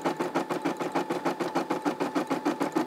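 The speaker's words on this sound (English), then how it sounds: "let it complete all of the black stitching" Brother SE600 embroidery machine stitching black thread, a steady rapid mechanical chatter with an even pulsing rhythm, close and continuous throughout.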